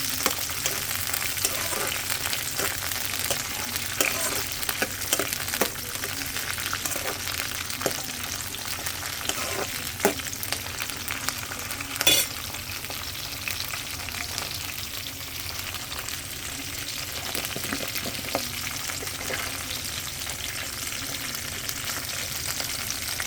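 Green chillies fry in hot oil in a pan, giving a steady dense sizzle and crackle throughout, with occasional stirring scrapes and pops, close and continuous, without any voices.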